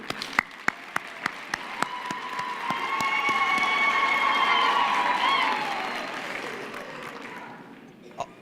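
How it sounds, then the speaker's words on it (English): An audience applauds graduates at a university graduation ceremony, opening with a few sharp separate claps. Fuller applause with some cheering then swells in the middle and fades toward the end. "I think we can all give them a hand of applause again."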